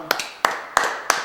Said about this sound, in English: Audience claps, goes crazy.